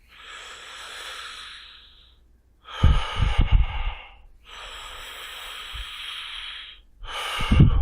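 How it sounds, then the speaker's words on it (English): Deep diaphragmatic breathing, alternating long, airy inhales with heavier, snorting exhales, four breaths in all, close and loud with no talking. "So I'm going to diaphragmatic breathe, then push my intercostals out."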